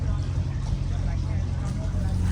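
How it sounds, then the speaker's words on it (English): A narrowboat's low, rumbling engine drones continuously, echoing through a canal tunnel, with a voice talking over it. "The noise you can hear behind is the boat that's just gone through"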